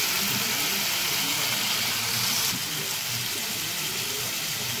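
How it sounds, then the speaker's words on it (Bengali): Water poured into frying masala in a pan for a doi koi fish curry, a steady close gush of liquid that eases slightly partway through. "বন্ধুরা, আমি মশলাতে জল দিয়ে দিচ্ছি।"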